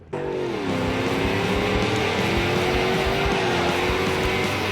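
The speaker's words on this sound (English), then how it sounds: "drive like this car is actually driving on ice all the time like it feels like it is" Agros Striker compact muscle car in the BeamNG.drive video game, its engine droning loudly and steadily with a slowly shifting pitch as it drives, alone without talk.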